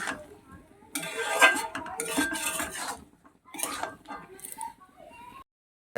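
Boiled peas stirred into spiced masala in a pan make bursts of metallic scraping and clinking from the spoon against the pan, with brief pauses between, over some talking.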